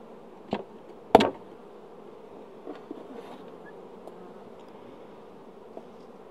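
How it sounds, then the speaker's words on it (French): Honey bees are shaken from a feeder rack into a hive, giving a low, steady buzzing hum broken by a couple of sharp knocks near the start and a few softer taps later. "on est en train de faire tomber en fait les abeilles qui se trouvaient dans le rack du nourrisseur là"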